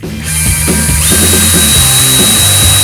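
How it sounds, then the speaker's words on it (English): A power drill with a small bit bores into a pedalboard while a DC power supply is mounted underneath. A loud, close whine runs steadily after a short start, with the pitch shifting slightly as the bit bites. "I'm starting with a little drill bit here, and then I'll get bigger and bigger."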